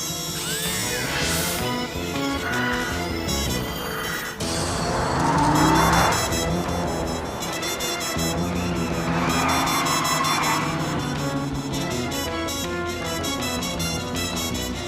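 A car speeds through a chase, its engine roaring steadily with bursts of tire squeal and skidding over a dense bed of dramatic music, loud and close throughout.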